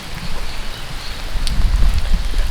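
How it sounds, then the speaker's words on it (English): Steady rain hiss with a low rumble beneath, continuous and fairly loud, growing a little heavier toward the end; no voices. "it's rainy"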